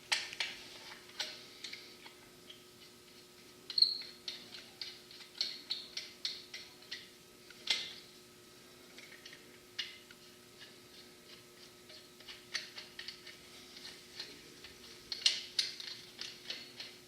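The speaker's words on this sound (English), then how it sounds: "Your hose just once again clicks into the controller, spins up the lock ring to hold it in place." Low-pressure air bag hose clicking into its controller and a lock ring being spun into place, heard as a faint, steady run of small ticking and ratcheting clicks with occasional louder snaps.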